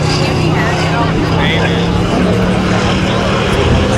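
Mitsubishi Eclipse launching at a street legal spectator drag race, a loud, constant engine drone mixed with crowd noise and other engine sounds, up close.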